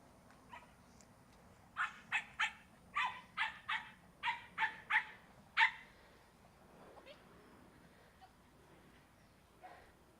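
A small dog barks in a quick run of about ten sharp yaps at an agility session, moderately close and fairly loud, then falls quiet, with faint background noise.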